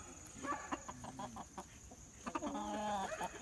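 A small Polish rooster in a barnyard gives a series of short, close clucks and throaty chatter in irregular bursts, quiet and alone without speech.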